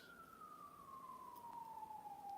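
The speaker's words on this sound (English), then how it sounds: "Ambulance." Faint ambulance siren passing at a distance, one steady wailing tone that slowly glides downward over a few seconds, alone with no talk.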